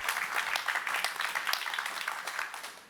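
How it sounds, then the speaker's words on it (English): Applause from a conference audience after a presentation, a steady spread of clapping filling the whole few seconds at moderate level with no talk over it. "Applause."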